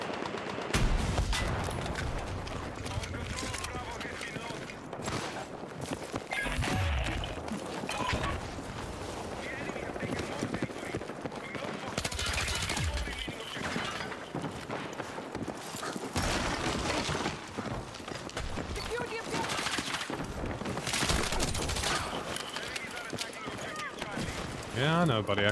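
Fireworks going off outside, a dense run of sharp bangs and crackles lasting throughout, loud and fairly close, mixed with a voice talking over them.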